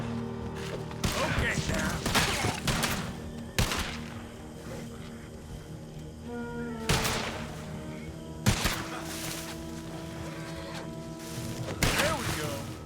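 Gatling gun fire in Red Dead Redemption 2, coming as several separate loud bursts of rapid shots spread across the stretch, mixed with game ambience and a voice talking over it.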